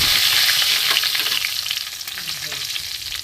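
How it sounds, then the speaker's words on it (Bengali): Whole cumin, bay leaf and whole garam masala spices hit hot oil in a pan, a loud close sizzle with spatter and stirring that gradually eases over a few seconds, no voices. "এখানে গোটা জিরে, তেজপাতা, গোটা গরম মশলা আমি ফোড়ন দিয়ে দেবো।"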